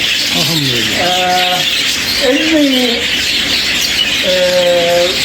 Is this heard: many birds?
yes